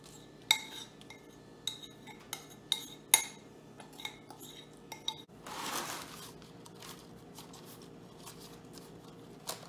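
A biscuit crust mixture for magic bars is pressed into a pan lined with paper and buttered at the sides. Sharp, scattered clinks and taps come first, then a brief soft scraping rub, all close and fairly quiet.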